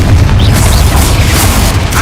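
Confringo blasting spell in the video game Hogwarts Legacy, a loud booming explosion with rumbling low end amid continuous combat noise during a spider fight.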